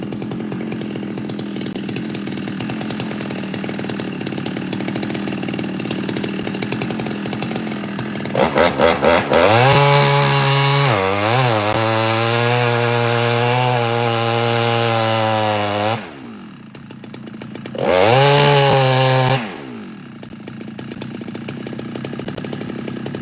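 A chainsaw fires up after a few sputters, then revs and settles into a loud, steady running drone close by, cuts out briefly, and roars again for a few seconds before dropping back to a quieter idle.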